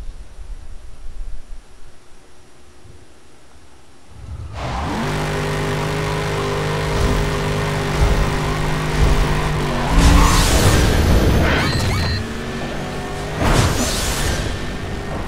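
A Mustang Boss in Need For Speed World revs its engine and launches in a drag race. A quiet idle gives way to a loud, sustained roar with rising gear-change sweeps and tire squeal.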